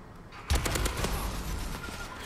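Gunfire in a video game match: a sudden burst of rapid shots hits loud after a quiet moment, followed by a noisy, lingering rumble with no talk.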